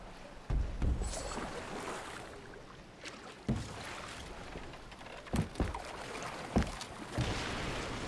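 Oars pulling a boat through water in Assassin's Creed Valhalla, a quiet steady wash of water broken by periodic splashing strokes at uneven intervals.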